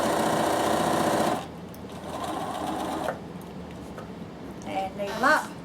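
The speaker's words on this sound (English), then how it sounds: "actually going to be straight stitching the back neckline" A Bernina sewing machine runs a straight stitch along the back neckline of a top, buzzing rapidly and closely for over a second, then pausing before shorter bursts, with someone talking over the later part.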